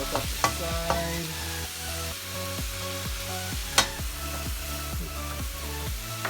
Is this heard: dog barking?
no